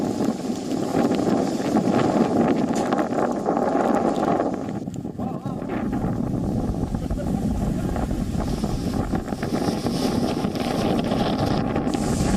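Strong wind from cyclone Tauktae buffets the microphone, a loud continuous rushing roar with gusty surges throughout.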